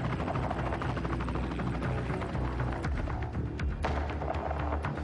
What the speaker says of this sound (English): It will take the chopper just 10 minutes to fly from Coromandel to the crash scene at Maramarua.